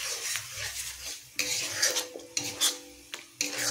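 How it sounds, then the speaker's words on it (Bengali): Spice masala with added water fries in a pan for a Bengali kabuli chana curry, a spoon stirring and scraping against the metal in several sharp, close strokes over a light sizzle. "জলটা দিয়েও মশলাটা ভালো করে আমি কষিয়ে নেব।"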